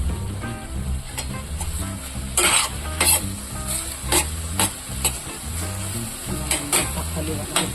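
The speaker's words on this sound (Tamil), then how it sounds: "தக்காளி வதக்கிட்டோம்." Tomatoes sautéing in a pan for a homemade chicken gravy, a continuous sizzle broken by repeated sharp scrapes and clinks of a spatula stirring against the metal.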